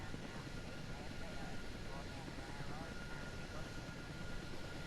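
Helicopter rotors, T58 units with about double the thrust of a UH50 main rotor, spinning up in Kerbal Space Program, give a steady, dense broadband whir with a faint tonal hum that holds even and continuous throughout.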